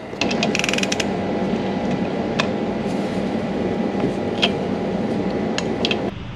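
A socket wrench ratchets on a 1965 Ford Mustang restomod during brake cylinder work, giving close, rapid bursts of clicking over a steady mechanical background.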